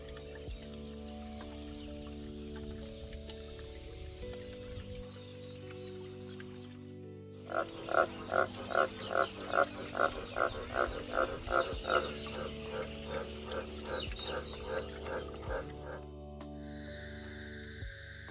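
Green tree frogs call in a loud, rapid series of repeated croaks, close and clear, starting midway after a stretch of low hum and lasting several seconds before tapering off.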